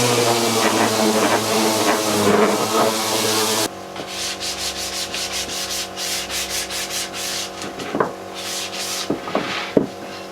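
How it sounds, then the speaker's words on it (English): Wood pieces sanded by hand with 120 grit sandpaper to remove bandsaw marks, a loud, continuous rubbing scrape up close that shifts to rhythmic back-and-forth strokes partway through. "I sanded all these pieces with 120 grit sandpaper to get rid of any bandsaw marks"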